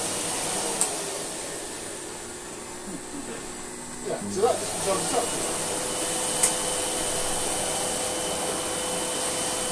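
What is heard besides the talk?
Sebo Duo-P rug cleaning machine running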